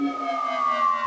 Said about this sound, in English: And now we hear the synth.